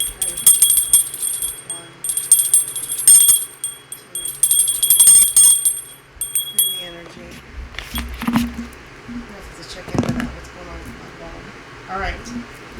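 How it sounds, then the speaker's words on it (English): A hand bell rung indoors, clanging in several bursts of sustained metallic ringing with bright high overtones, then quieter rustling and handling noises follow. "I'm going to ring another bell"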